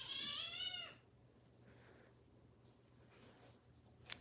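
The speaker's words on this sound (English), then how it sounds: "That's a kitten." A kitten gives one clear, high, wavering meow close by, followed by quiet room tone and a small sharp tap at the end.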